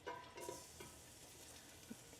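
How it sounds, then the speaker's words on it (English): Garlic sizzling in olive oil in a pan over an open camper stove flame: a steady, close frying hiss with a few soft stirring clicks, no talking. "Hear that sizzle."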